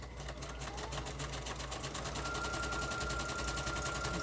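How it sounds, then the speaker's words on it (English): Sewing machine running a zigzag stitch on a millinery journal board, a fast, steady mechanical rattle of the needle that holds an even pace throughout, close and unbroken by speech. "I'm using a zigzag stitch"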